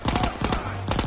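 Machine gun fire in a WW2 video game: loud, close rapid-fire bursts, with a long rattling burst, a brief lull, then another burst.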